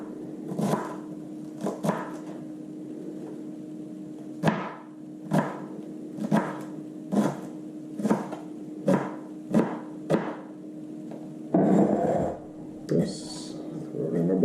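A knife chops food on a board for a barbecue dish, about a dozen sharp, evenly spaced cuts, close and clear, under a steady background hum.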